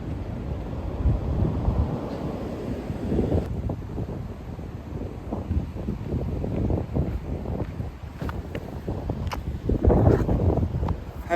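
Strong wind buffets an outdoor microphone during hill sprints, a continuous low rumbling roar with gusty surges, loudest near the start and again around ten seconds, with no speech.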